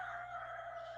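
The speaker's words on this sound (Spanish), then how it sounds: "Discúlpenme si escuchan un gallo" A rooster crows faintly in the background during an online class, one steady, drawn-out call heard alone over low room hum.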